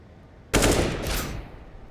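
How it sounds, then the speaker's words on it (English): A single sharp, loud Desert Eagle shot in Counter-Strike on the Vertigo map during a competitive match, with a broadband crack followed by a short ringing tail that fades over about a second. "Deagle bullet blows by."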